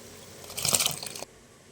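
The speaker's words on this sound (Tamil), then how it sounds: "இப்போ வந்து நம்ம அரிசியை சேர்த்துக்கலாம்." Dry rice poured into boiling water makes a brief rattling, crunchy sound lasting about half a second, then stops abruptly over a low background hiss.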